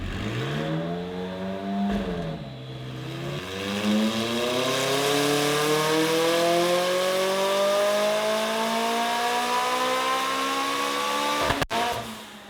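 A built 4.0-litre McLaren 675LT with stock turbos strains through a long full-load pull on a dyno, its pitch climbing steadily after a brief dip, loud and close, then cutting off abruptly near the end.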